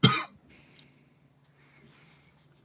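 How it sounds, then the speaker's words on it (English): One sharp, close cough, then quiet with faint throat sounds and a low hum. "Now I have to cough also"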